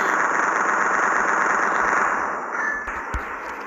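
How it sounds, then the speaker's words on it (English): Rapid automatic gunfire in a video game forms a dense, continuous roar that is loud throughout and eases slightly near the end, with no talk over it. "I'm gonna shoot them"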